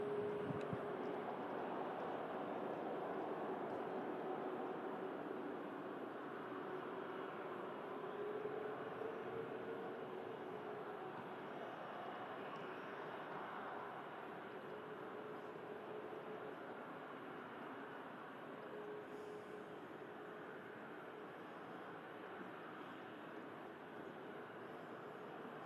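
An airliner taxis slowly at Manchester Airport on a sunny July day, giving off a steady, distant whine and broad roar that fades gently over time.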